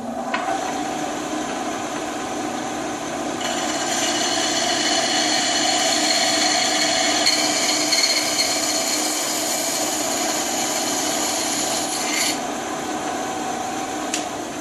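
A power saw runs steadily as it cuts a wedge slot into a wooden hammer handle, giving a loud, even whine that grows stronger once the blade bites into the wood and then drops away near the end.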